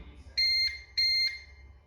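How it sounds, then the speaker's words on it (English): A CyberPower UPS gives two identical electronic beeps, each about a third of a second, in a steady rhythm over a quiet hum during a power outage. "this beeping sound is a typical sound when you have a powered outage"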